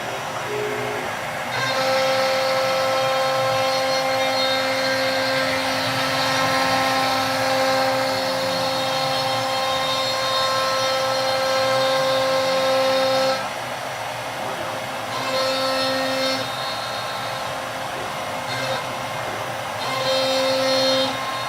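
A CNC machine spindle spins up after cycle start and holds a steady, loud high-pitched whine with mechanical hum, briefly dropping off and resuming near the end.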